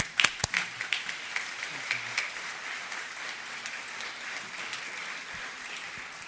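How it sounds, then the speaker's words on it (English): Audience applause greeting a speaker being introduced at a religious freedom gathering, a few sharp close claps at the start giving way to a steady crowd clapping that gradually eases. "Let's give him a round of applause."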